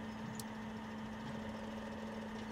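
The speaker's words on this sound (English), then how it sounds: "Let's start up the engine and drive over to it." A tractor engine in Farming Simulator 17 idles with a steady, even low hum that holds unchanged throughout, fairly quiet with no other sounds over it.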